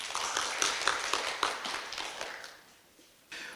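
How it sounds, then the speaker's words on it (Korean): Audience at a Busan sustainable development forum public hearing applauds to welcome a speaker to the podium; the clapping is moderate and fades out, and a brief sound returns near the end. "박수로 환영해 주시기 바랍니다"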